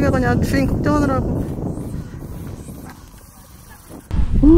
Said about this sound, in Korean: 바람 너무 많이 부는 거 아닌가?